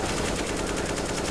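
Rapid automatic gunfire in CS:GO on the Inferno map, a dense continuous burst filling the whole moment at steady loudness with no pauses.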